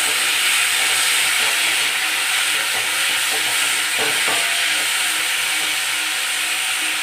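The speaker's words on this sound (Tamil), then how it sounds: "வெங்காயம் இந்த மாதிரி நல்லா வதங்கி வந்ததும் மீடியம் சைஸ் தக்காளி 2 போட்டு நல்லா" Onion and two medium tomatoes sautéing in a pan for ridge gourd chutney, a loud, close, steady hissing sizzle throughout, with a few soft stirring scrapes in the middle.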